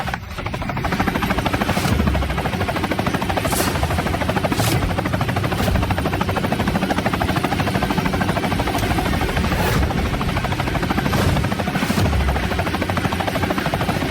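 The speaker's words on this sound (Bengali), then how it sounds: "আরে ওটা তো কোটি টাকার হেলিকপ্টার" A helicopter roars steadily and loudly nearby, its dense rotor throb unbroken throughout, with occasional sharper whooshes.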